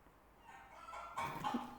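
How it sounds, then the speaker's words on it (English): A chicken sound effect from a stock editing library: faint clucking and fowl calls that build up and grow louder in the second half of the short clip, heard alone without talk. "Chicken."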